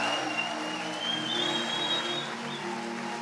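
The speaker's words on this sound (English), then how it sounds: "Clap for them real loud." A crowd inside a large tent at a Sunday crusade meeting applauds steadily, dense continuous clapping filling the space with a faint tonal hum running through it.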